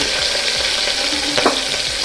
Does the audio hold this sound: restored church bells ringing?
no